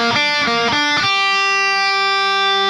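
Distorted electric guitar picks an arpeggio moving up three notes and back one, four quick bright notes leading into a held, ringing final note, close and loud with no voices.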